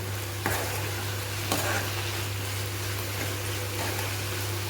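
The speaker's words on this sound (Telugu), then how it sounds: "మంచిగా ఉడుకుతూ ఉంటుంది." Tomato and amaranth curry bubbling and sizzling in a pan on low heat, a continuous hiss with a couple of sharp clinks of a spoon or lid against the pan.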